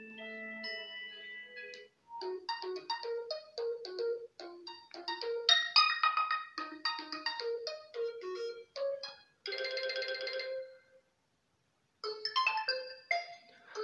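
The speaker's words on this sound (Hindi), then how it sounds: "रिंगटोन में आ जाते हैं और यहाँ से कुछ रिंगटोन्स को चला लेते हैं।" A bright electronic ringtone melody plays from an Oppo F17 phone's single speaker, quick plinking notes in phrases with a short pause before the tune starts again.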